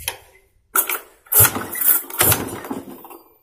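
Someone kick-starts a Yamaha Mio J scooter that has lost compression. Three short, sharp mechanical cranking bursts come close up, separated by brief pauses, and the engine never catches.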